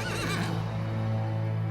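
Horses neighing inside a trailer at a highway wreck, a loud close whinny with trembling pitch, followed by a steady low mechanical hum with faint shuffling.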